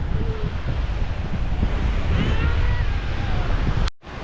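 Waves and wind roll onto a Bahamian beach with a loud, rough rush of surf and gusting wind buffeting the microphone, continuous until a brief dropout near the end.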